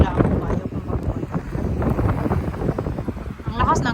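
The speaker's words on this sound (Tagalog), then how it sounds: "Ang lakas ng hangin. No, it's very windy." Strong wind buffets the microphone in loud, uneven gusts, with a person speaking over the roar.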